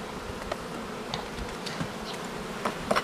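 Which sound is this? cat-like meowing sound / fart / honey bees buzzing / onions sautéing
honey bees buzzing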